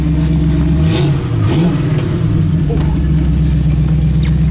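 Engine of a 1969 Chevrolet Nova idling at about 1,000 RPM on a cold day, a loud, steady low rumble with a brief uneven wobble near the start, heard close up from inside the car.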